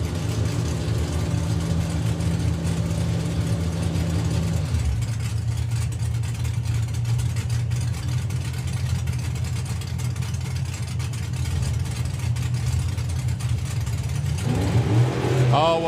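Drag race cars sit at the line with deep, steady engine drone, then the pitch and tone shift as they launch and the engine note carries on loudly, while a commentator talks over it.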